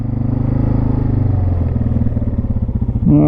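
A 1996 Yamaha Wolverine 350 ATV 4x4 engine chugs close up while riding, a loud, pulsing low-gear putter with rhythmic firing that holds steady, then climbs sharply as the throttle opens at the end.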